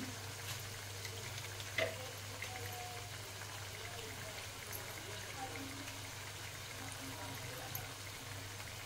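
Masala gravy with coriander and cumin powder fries in oil for paneer masala, giving a faint, steady sizzling hiss throughout with one brief spoon clink early on.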